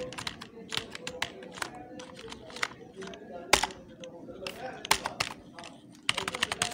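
Quick typing on a computer keyboard while entering a heading in InPage, with many sharp, irregular key taps at close range and a voice talking underneath.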